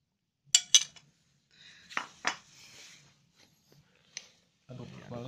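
A utensil clinks against a bowl while carp bait mixture is stirred, giving sparse, quiet taps and scrapes with pauses between them and a voice coming in at the end.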